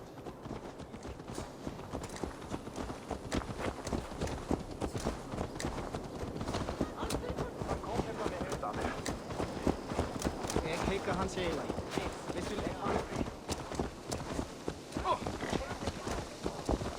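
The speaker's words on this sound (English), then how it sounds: "Let's return the horse." Horse hooves clip-clop at a steady, close, continuous rhythm in Assassin's Creed Valhalla, running under a game voice and background sound for the whole stretch.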